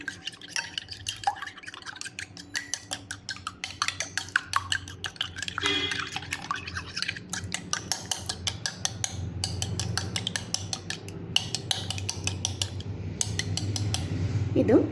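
Cracked eggs and sugar are mixed in a bowl for banana cutlets. Rapid, steady clinks of a utensil beating against the bowl continue the whole time, close and fairly quiet, with a faint low hum underneath and no talk.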